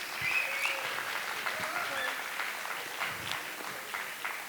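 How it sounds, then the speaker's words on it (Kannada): An audience at a Karnataka Rajyotsava community celebration claps steadily for a sponsor from Bangalore, a continuous wash of applause heard from a distance with faint voices underneath. "ಜೋರಾಗಿ ಚಪ್ಪಾಳೆ ಬರಲಿ."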